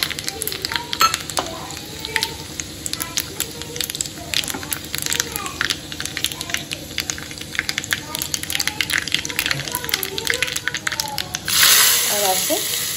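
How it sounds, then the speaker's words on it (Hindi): Spices sizzling and crackling in hot mustard oil for a five-spice tempering, a steady close frying hiss with stirring clinks, rising to a louder burst near the end. "सो सरसों का तेल गर्म हो गया, इसमें हमने जो फ़ोरन बनाया हुआ है"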